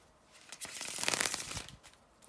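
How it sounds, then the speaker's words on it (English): A deck of tarot cards is shuffled in one quick, crisp riffle lasting about a second, fairly close and with no voices. "just a second, guys, to shuffle the cards"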